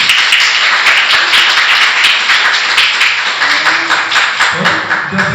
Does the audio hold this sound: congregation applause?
yes